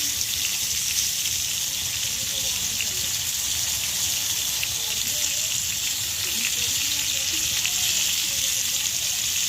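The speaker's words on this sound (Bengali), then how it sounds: "এখন আমি পটলটা একটুখানি হালকা হালকা করে ভেজে নেব।" Pointed gourd (potol) lightly frying in a pan, a continuous hissing sizzle like running water that holds steady and close, with faint background sounds underneath and no clear speech.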